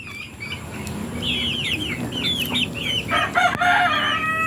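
Chickens being fed outdoors, with a rooster crowing and hens clucking in repeated bursts over a steady background hum, loud and close throughout.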